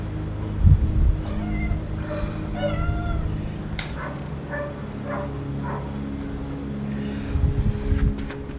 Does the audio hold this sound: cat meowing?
yes